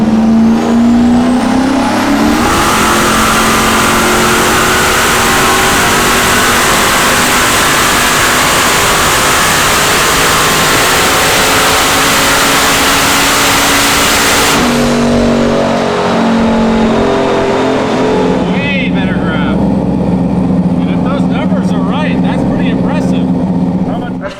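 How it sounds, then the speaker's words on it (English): Turbocharged LS-swapped Foxbody Mustang on a dyno, roaring loudly through a long sustained full-throttle pull, engine and turbo whine climbing, then lifting off into a rough, crackling idle toward the end. "So we're gonna fire it up, give it another pull."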